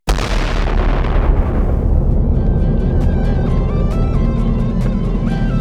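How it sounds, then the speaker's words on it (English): A huge real explosion staged for a film erupts suddenly and stays loud, a dense roaring blast that settles into a long rumbling, crackling tail. "technically this is a real explosion."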